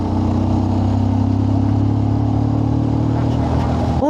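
A big motorcycle engine revs and drones loudly and steadily up close during a mountain loop ride, a dense continuous roar without a break.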